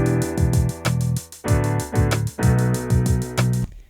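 A punchy synthesized bass line made in FL Studio repeats a short pulsing pattern with gliding pitch drops, loud and upfront, ending abruptly after a few seconds.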